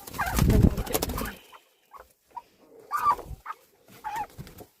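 Turkey poults give short, bright chirping peeps in scattered bursts after a louder rustling start, close and fairly faint, with pauses between calls.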